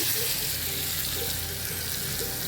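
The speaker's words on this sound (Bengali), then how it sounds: "রসুনটা ভালো করে লাল করে গরম করে নেব।" Garlic frying in hot oil for bread pakoda, a dense continuous hiss and sizzle filling the whole stretch, close and steady with no talking.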